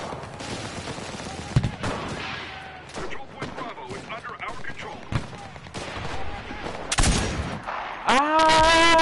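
Gunfire from the World War II shooter Enlisted on PS4, sharp shots and bursts scattered through the scene, loud and close, with a rising whine at the end; no talk heard.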